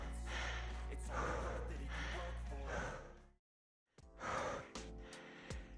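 Someone catching their breath after an early-morning follow-along workout, with several loud, close, heavy gasping breaths, a brief silent pause, then more panting and exhaling.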